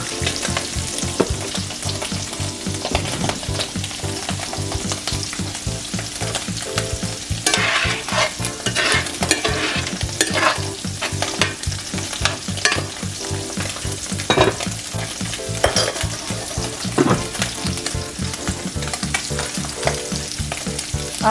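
Salmon fillets sizzle loudly in a hot pan while being basted, a dense continuous frying hiss with repeated spoon scrapes and splattering pops, close and steady throughout with no voices.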